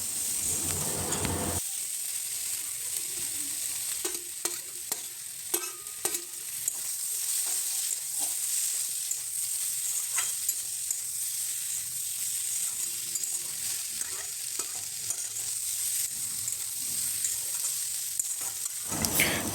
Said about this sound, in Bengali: মশলাটাকে আর আলুটাকে একটু কষিয়ে নিতে হবে